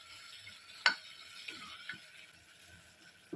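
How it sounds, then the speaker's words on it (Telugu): Mint mixture stirred in a pan over a high flame, a soft low sizzle broken by a few sharp spoon scrapes and clicks against the pan, quiet and close with no voices. "స్టవ్ హైలో పెట్టుకొని మంచిగా మిక్స్ చేసుకోవాలి"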